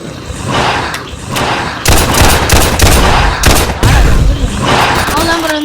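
Gunfire in the Roblox zombie survival game, repeated sharp shots in bursts and single cracks with heavier booming reports partway through, over faint background game sound.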